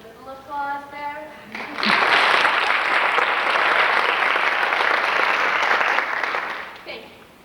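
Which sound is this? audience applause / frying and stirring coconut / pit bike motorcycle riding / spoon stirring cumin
audience applause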